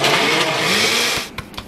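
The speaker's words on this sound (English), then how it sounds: "look at the blender." Blender shredding cheese at high speed, a loud harsh whirring that runs for over a second then cuts off, followed by a couple of short knocks.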